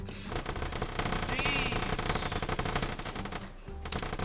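AK rifle fire in the online shooter Vigor, a dense stream of rapid shots that stays loud and close for several seconds with a brief dip near the end, no talk over it.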